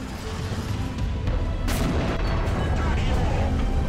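A tank cannon fires in War Thunder gameplay, a sharp, loud boom midway that decays into rumbling battle noise and a continuous engine drone.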